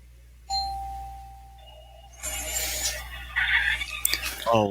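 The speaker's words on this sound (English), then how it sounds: "Someone's gonna come and ring the doorbell." A doorbell rings once at a home, a clear tone followed by noisy household sounds and movement.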